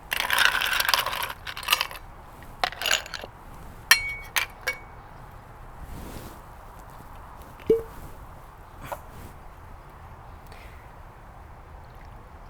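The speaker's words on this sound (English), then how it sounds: "Fill the glass with ice." Ice cubes drop into a glass for a mojito, starting with a loud rattling clatter, then scattered clinks and settling knocks that thin out into quiet.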